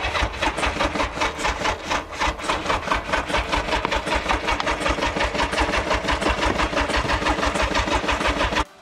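An old, very heavy motorcycle engine starts and runs with a fast, even, close-up mechanical chatter that holds steady for several seconds before cutting off abruptly.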